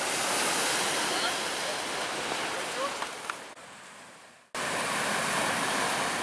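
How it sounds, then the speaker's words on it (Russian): Rough sea waves wash onto a fine pebble beach in Turkey, a steady loud roar of surf and churning water filling the air close by, briefly dipping near the end before the constant rush returns. "Сегодня у нас что-то море прям волнуется."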